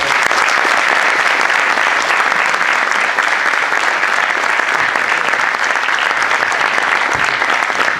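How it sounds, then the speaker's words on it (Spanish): Sustained applause from an audience at a university engineering event commemorating the Malvinas War, a dense, even wash of clapping that holds steady at full strength for the whole stretch with no voices over it. "Yo les pido un aplauso, obviamente."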